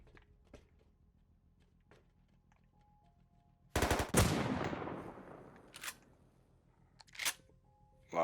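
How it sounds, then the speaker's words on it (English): Incendiary bullets fired from a gun in the video game Rust: a sudden burst of loud close gunfire that rings out and decays, followed by a couple of fainter sharp reports and small clicks. "Last incendiary bullet."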